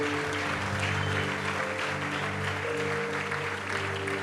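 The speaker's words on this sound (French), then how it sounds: "On peut acclamer très fort, très fort" Loud, dense applause and cheering from a church congregation, sustained throughout with a bright crowd roar.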